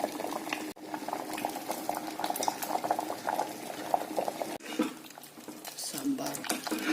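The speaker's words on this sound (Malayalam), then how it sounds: "സാമ്പാർ തിളച്ചു." Sambar boiling in a pot for Pesaha Thursday, a continuous bubbling simmer close by, with utensils clinking against the pot now and then.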